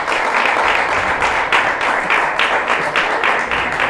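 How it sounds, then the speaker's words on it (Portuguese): Church congregation clapping in praise during a Pentecostal service, a loud, dense wash of many hands with a pulsing, slightly rhythmic surge, no voices standing out. "as palmas do Senhor."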